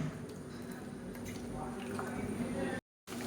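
Village-style chicken kulambu curry with masala paste bubbles and simmers in a pot, a soft, steady wet burbling heard close but faint, with talking over it.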